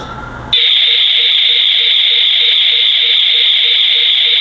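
A loud, steady electronic security alarm siren, triggered by a Sonoff DW2 WiFi door/window sensor, blares continuously after a brief quiet start, with a faint repeating pulse beneath it, close and unbroken.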